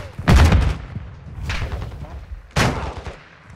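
Three sharp gunshot bursts crack out in a Call of Duty MW2 shootout, loud and close, separated by short pauses with faint background noise between them.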